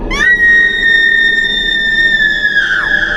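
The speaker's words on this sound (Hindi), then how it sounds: "और फिर एक चीख" An inhuman, unearthly scream rises sharply and then holds as a loud, piercing sustained shriek with a shrill whine over it, bending downward near the end, standing alone without any talk.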